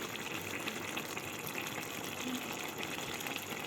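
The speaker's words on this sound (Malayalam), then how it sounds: "നന്നായി ഒന്ന് തിളക്കട്ടെ." Green gram masala curry boiling in a pot, a faint steady bubbling and simmering hiss heard up close without talk.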